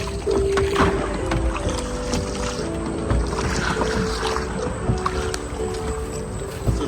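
A cruise-ship tour boat travels on the Indian River in Dominica, giving a steady low engine hum with water gurgling and splashing at close range under a continuous outdoor wash.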